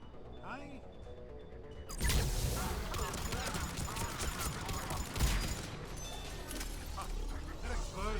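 An explosion in the video game Mass Effect 3 bursts in loudly after a quiet start and is followed by sustained rumbling, crackling blasts and gunfire-like impacts, with a second heavy hit midway.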